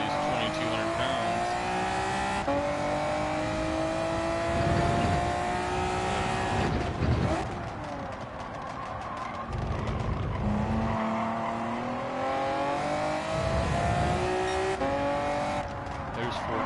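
A Honda NSX race car drifting in a racing video game: engine whine rising and falling through gear shifts, mixed with repeated tire squeals and skids, loud and close, with someone talking over it.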